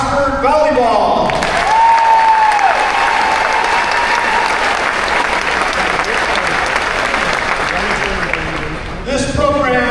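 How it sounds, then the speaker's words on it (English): A gym crowd gives a big round of applause for the Oxford Volleyball team, loud sustained clapping for about eight seconds with an announcer's voice speaking at the start and end. "How about a big round of applause for Oxford Volleyball?"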